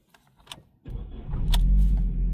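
A Ford Focus engine cranks and catches after the key is turned, preceded by faint clicks and rattles, then settles into a steady, close, low idle.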